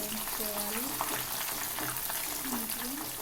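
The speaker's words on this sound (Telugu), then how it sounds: "తర్వాత ఎర్రగడ్డ వేసుకోవాలి. ఎర్రగడ్డ బాగా బ్రౌన్ కలర్లోకి రావాలి." Onions sizzling in hot oil with tempering spices, a dense, steady crackling fry that stays loud and continuous throughout, with faint stirring scrapes.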